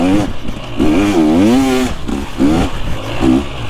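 A motorcycle engine revs loudly and close by, its pitch swooping up and down in several quick throttle blips over a few seconds.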